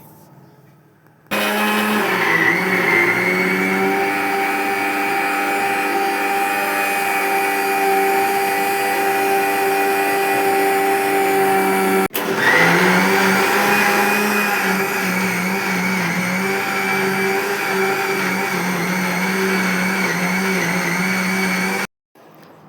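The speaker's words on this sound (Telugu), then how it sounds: "నేను మిక్సీ జార్లో వేసి దాన్ని మిక్సీ పెట్టేశాను" A kitchen mixer grinder churning cream in its jar to separate butter runs loud and steady, with a brief stop midway before starting again, then switching off.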